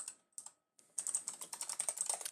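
Typing on a computer keyboard while setting up in Football Manager 2019: a few hesitant taps, a brief pause, then a quick, close run of rapid keystrokes with no talking.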